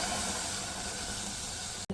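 Milk poured onto hot caramelized sugar in a pan for caramel tea gives a steady, loud hissing sizzle that runs unbroken for about two seconds before cutting off abruptly.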